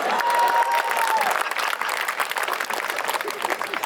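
A live audience at a Hindi comedy poetry gathering, hasya kavi sammelan, applauding poet Sudeep Bhola, with dense, steady clapping and crowd noise that stays loud throughout and thins slightly toward the end.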